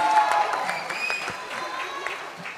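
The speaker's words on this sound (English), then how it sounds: "give him a round of applause, ladies and gentlemen" Audience applause at a Bollywood film trailer launch event, a burst of clapping that starts loud and gradually thins out, with some voices in the room.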